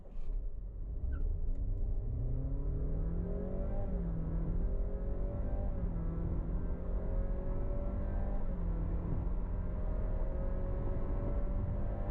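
A Honda City 1.5 e:HEV RS hybrid car drives in stop-start traffic with a steady, continuous engine and road hum that rises and falls in pitch as it speeds up and slows.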